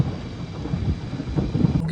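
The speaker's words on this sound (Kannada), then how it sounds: "ಮಳೆ" Outdoors at Hampi, rain falls steadily while low thunder rumbles nearby, with wind buffeting the microphone throughout.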